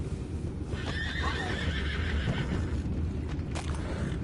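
In a video game, a horse whinnies over a steady low rumble of background ambience, with faint hoof clops and rustling underneath.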